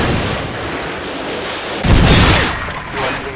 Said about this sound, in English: Predator missile ready for deployment.